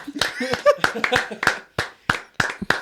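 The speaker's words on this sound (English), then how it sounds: "This time, minute clap." A few people clapping in a small group as a birthday tribute, sparse and irregular claps separated by gaps, with talking and a little laughter in between.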